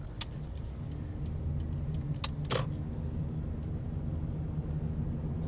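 A car drives along North A Street in the Taftville section of Norwich, Connecticut, with a steady low engine and road rumble throughout and a few faint clicks and rattles inside the cabin.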